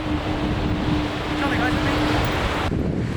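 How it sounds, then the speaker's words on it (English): Ocean surf at Peggy's Cove, Nova Scotia, a steady loud broadband wash of waves against the shore with wind buffeting the microphone and a faint sustained tone, ending abruptly near the end. "Can you hear the waves?"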